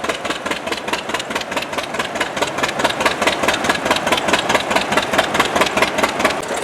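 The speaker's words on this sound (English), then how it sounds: "Here's the two-cylinder I was hearing. It's powering this belt-driven fan I showed you earlier." A two-cylinder engine at a country fair drives a belt-driven fan, producing a steady, loud, fast chugging pulse with even rhythm throughout, close by and with no voices.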